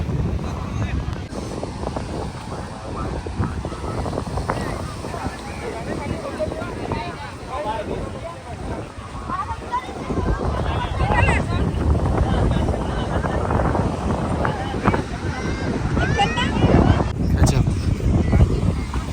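Strong wind roars steadily against the microphone outdoors at the seashore at Somnath, with voices talking underneath and a faint rush of water.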